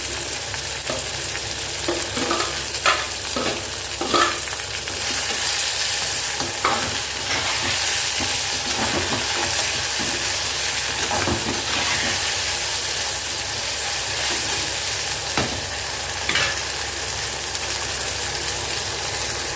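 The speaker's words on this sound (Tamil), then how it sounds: "இப்போ பாருங்கள் பொருளங்காய் எண்ணெயில் வதங்கிட்டு இருக்குது" Snake gourd sautés in oil in a pan alongside tomato, a steady close sizzle and hiss punctuated by frequent stirring scrapes and clacks throughout.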